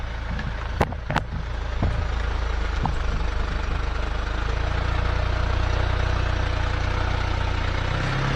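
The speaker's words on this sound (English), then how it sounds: "the car is on the dyno now" A Mercedes C-Class diesel idles steadily on a dyno in a workshop, a low continuous rumble with a few sharp metallic knocks near the start.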